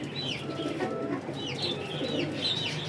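A large Ferozpuri pigeon coos in repeated soft, throaty rolls, close by and steady, over a low background murmur.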